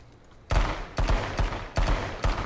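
Four sharp, loud pistol shots go off close by at roughly half-second intervals in the battle royale game H1Z1, each a crisp crack with no talking over them.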